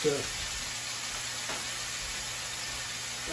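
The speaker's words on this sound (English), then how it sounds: "we've given the garlic a few minutes here just to kind of brown up a little bit" Garlic browning in hot oil gives off a soft, steady sizzle, faint and continuous beneath a voice talking.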